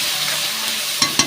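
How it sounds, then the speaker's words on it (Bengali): Turmeric, chili powder and sugar sauté in a pan with a steady close hiss of frying, ending in two sharp scraping knocks of a spoon against the pan. "দিয়ে মশলাটা সুন্দর করে কষিয়ে দেবো"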